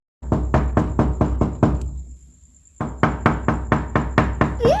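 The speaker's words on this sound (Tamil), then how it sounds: "கதவை தட்டுங்க வராளான்னு பாப்போம்" A door is knocked on in two quick rhythmic runs of loud, close raps separated by a short pause, with a faint voice at the very end.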